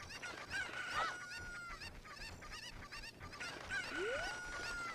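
Chickens in a Zelda video game give repeated bird calls, honk-like squawks and clucks in bursts, with one rising cry near the end, all over a steady game background.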